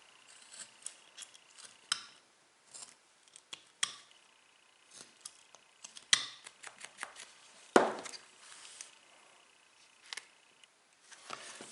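Knife slicing and trimming wood while carving a wooden gnome face, heard as scattered sharp clicks and short scraping cuts at irregular intervals, close and fairly quiet with no talking.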